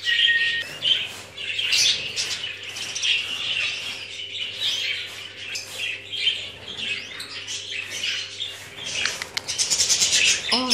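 Parrots, including one with a blue breast, chirp and squawk continuously in a lively crowded flock, a dense overlapping chatter of calls with flapping wings, close and fairly loud throughout.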